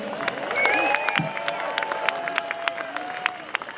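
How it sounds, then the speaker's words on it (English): Crowd applause and cheering at a Believe In Scotland rally, a mid-level outdoor wash of clapping with a whistle-like tone and some voices mixed in. "Round of applause for Pat King."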